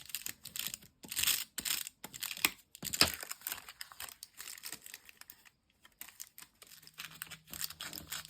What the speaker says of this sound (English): A nice rough tear